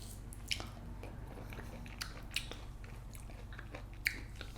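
Someone eating clementines up close, with soft wet chewing and squishing and a few sharper bites over a quiet background.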